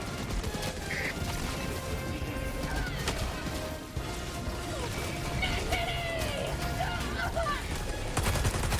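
Rifle fire rattles in rapid bursts during a chaotic multiplayer shooter battle, dense and loud over a steady drone of game noise, with people talking at points.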